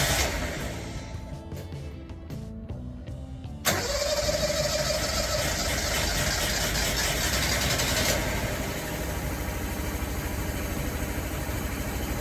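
A Suzuki LJ50 with a freshly swapped engine cranks for a few seconds, then catches and roars to life before settling into a steady, loud idle.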